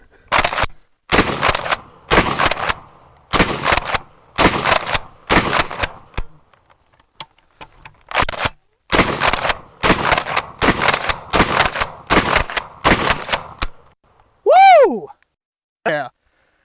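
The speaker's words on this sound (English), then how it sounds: "so it definitely packs some punch with a 1-ounce Magnum slug, 3-inch shell" A Smith & Wesson M&P12 pump shotgun firing 1-ounce Magnum slugs from 3-inch shells at an outdoor range, with a rapid string of loud, sharp blasts, a brief pause, then another volley, and a few odd tonal chirps at the end.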